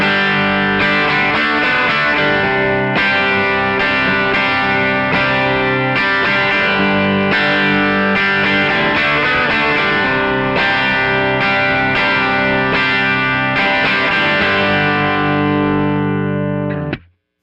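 An electric guitar plays a semi-dirty, mildly distorted tone through a vintage Fender Deluxe Reverb amp, loud and continuous with strummed chords and riffs that ring out and stop at the end.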